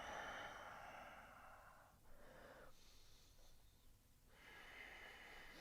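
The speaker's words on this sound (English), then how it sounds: "Inhale and exhale." Deep yoga breathing during a vinyasa flow, slow airy inhales and exhales alternating in long breathy waves, quiet and close with a slight wheezy rasp, no talk.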